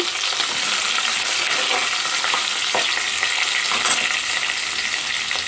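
Onions and green chillies fry in a hot pan with a steady, loud sizzle and crackle that runs throughout, broken by a few scraping stirs.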